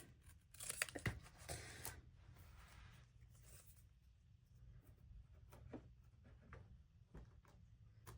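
Scissors trimming thin packaging material while turning junk into stickers, a quick flurry of soft cuts and tearing rustles up front, then sparse quiet snips and crinkles, all faint and close.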